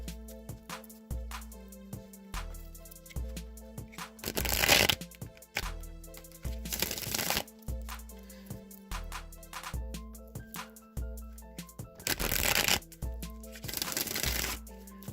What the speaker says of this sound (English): I'm going to go ahead and shuffle the Rider-Waite deck now a few times